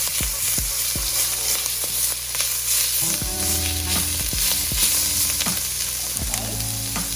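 Mustard greens sizzling and frying in a hot pan for dan dan noodles, a close, steady crackling hiss broken by repeated stirring knocks and scrapes of a utensil against the pan.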